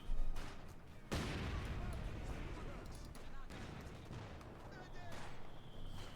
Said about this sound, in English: Great mortar hit there by GAT, wipes out almost of Frost.